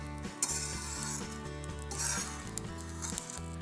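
Salt stirred and scraped in a hot frying pan during its first seasoning, gritty rustling and sizzling with occasional metallic clinks, steady and close.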